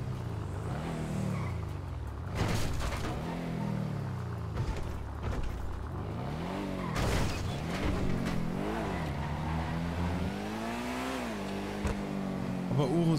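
Car engines in a video game street race, repeated rising and falling revs as the cars accelerate and shift, with swooping pitch sweeps under someone talking in German.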